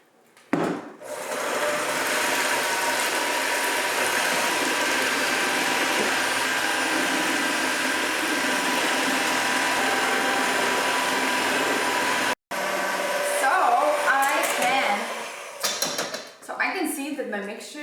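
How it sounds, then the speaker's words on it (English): Electric hand mixer whipping heavy cream in a home kitchen for a Ukrainian honey cake, a steady loud whirring drone running continuously for about twelve seconds, then a brief cutoff followed by quieter clattering and rustling. "And now I'm going to look for my mixer."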